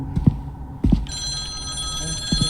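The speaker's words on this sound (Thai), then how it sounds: "โทรศัพท์ดัง" A telephone rings in the horror video game A Twisted Place. After dull, pulsing thuds like a heartbeat, a bright electronic ring starts about a second in and holds steadily while the low throbbing continues beneath, with no voices.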